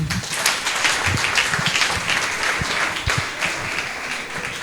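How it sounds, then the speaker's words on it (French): A church congregation applauds and cheers in a loud, dense wash of clapping that carries steadily throughout. "maintenant tu as fini d'acclamer pour nous. Acclame pour Jésus"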